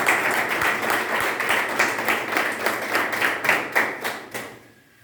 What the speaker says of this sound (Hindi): तो इन सारे लोगों के लिए एक बार जोरदार तालियां।